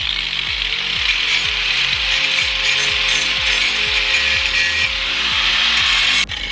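Rust being scrubbed off a BMW E46 subframe with a power tool, a loud, steady rhythmic grinding and rasping that repeats about twice a second, close up and uninterrupted.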